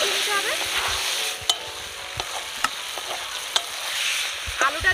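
Potatoes frying with masala in a pan for egg biryani, heard as a steady close sizzle under repeated stirring, punctuated by a few sharp spoon clacks against the pan.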